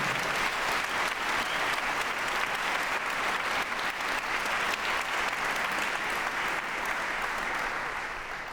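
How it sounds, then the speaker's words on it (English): A large graduation audience at a music conservatory applauds steadily, a dense and loud wash of clapping that holds evenly before easing slightly at the end. "please give a rousing round of applause for these extraordinary individuals"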